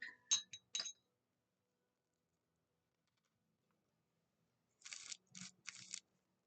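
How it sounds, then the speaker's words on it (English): A stirrer clinks against a small container while mixing a paint blend for reborn doll skin tones: a few quick taps at the start, a long silent stretch, then another short burst of clinks near the end. "We're going to stir this up."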